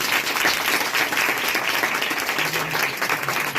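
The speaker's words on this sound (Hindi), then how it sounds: "बजाओ ताली यीशु मसीह के लिए।" A congregation applauds at a Christmas church meeting, with dense, steady clapping that fills the whole stretch at an even, fairly loud level and no clear break.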